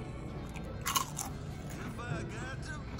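Someone bites into a crisp deep-fried pork wonton at a Chinese buffet, giving a sharp, close crunch followed by quieter chewing crackles, with voices talking around it.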